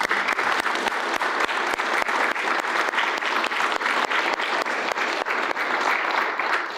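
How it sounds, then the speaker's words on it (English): An audience at an Indigenous recognition project website launch applauds the authors, with sustained, even clapping filling the whole stretch at a steady, moderately loud level with no voices. "I'd like everybody to give them a round of applause."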